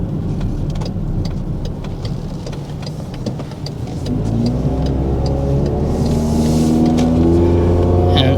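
A 1.5-litre MG3 hatchback accelerates at about 80% throttle, its engine note rising steadily and growing louder from inside the cabin, a smooth climbing drone with no talk.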